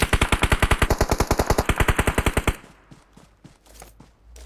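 Automatic gunfire in PUBG on the Erangel map: a rapid burst of about twenty loud, evenly spaced shots over two and a half seconds, then it stops and only quieter game ambience remains.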